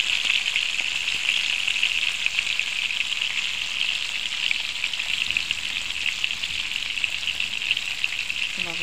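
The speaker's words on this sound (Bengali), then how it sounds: "এভাবে করে চিংড়িগুলো সবগুলো আমি পরে বেশটাকে এভাবে করে ভেজে নেব।" Shrimp frying in a pan of hot oil, a steady bright sizzle that holds evenly from start to finish with no talking over it.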